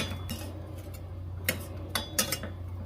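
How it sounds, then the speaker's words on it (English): A utensil stirs broccoli simmering in a pot, making a few sharp metallic clinks and taps over a steady low hum, with no voices. "Let's give it a stir. A nice stir."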